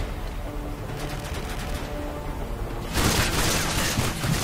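Rapid bursts of gunfire aimed at the player in a survival shooter video game, a steady rattling barrage that swells louder and harsher near the end, with no talk over it.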